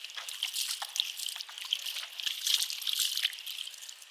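Water pours and trickles in an uneven, splashy stream close by as it is poured over feet during ablution, with small drips and splashes, and no talking.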